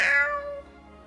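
A single cat meow, loud and close at the onset, then tapering off over about a second with no other sounds.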